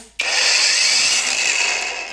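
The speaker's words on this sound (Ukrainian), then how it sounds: "Беремо, наприклад, китайську пилу. Беремо акумулятор, вставляємо." A cordless battery-powered Chinese saw starts abruptly and runs steadily at high speed, a loud, close, whining motor drone that eases off slightly toward the end, with no talk.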